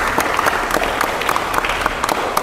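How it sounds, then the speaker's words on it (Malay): A group at a campus community programme claps together after a game round, a steady burst of hand-clapping that carries on throughout with no voices on top. "Tepuk tangan."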